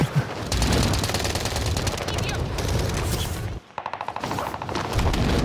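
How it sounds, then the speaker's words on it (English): Rapid bursts of automatic gunfire from a Call of Duty: Modern Warfare match, dense and loud throughout with a brief drop near the end before firing resumes, mixed with game sounds and faint voices. "Taking fire."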